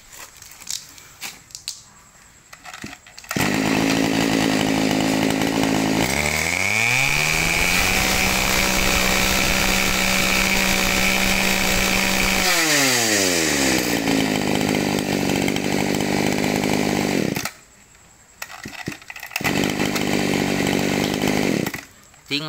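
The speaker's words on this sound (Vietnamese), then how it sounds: "Tiếng máy này cực kỳ sướng tai luôn ha nè." A Mitsubishi 24cc Japanese-made brush cutter engine with a 32 mm bore, revving up from idle to a loud steady high-pitched drone, then falling back and cutting off, very close and dominating.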